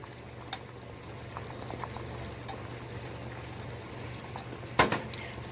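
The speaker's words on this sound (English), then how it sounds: "I'm gonna turn it down a little and just let it boil" Homemade chicken bone broth soup simmers in a pot with a soft, steady bubbling and hiss, broken by a few faint clinks and one sharper clatter near the end.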